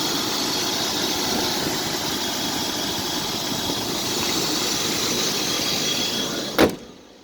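A car engine with new lines and smog equipment idles steadily and loudly, a constant rumble with a whining squeal running over it, ending in a sharp knock as the sound drops away.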